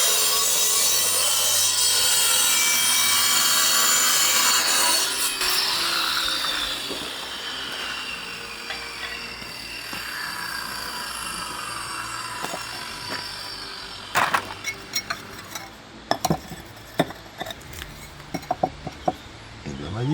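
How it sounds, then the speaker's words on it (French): A large angle grinder cuts during the building of a natural-materials oven. It makes loud, harsh, whining cutting noise for about twelve seconds that slowly winds down, followed by scattered clanks and knocks. "je vais sortir la grosse meuleuse et c'est parti."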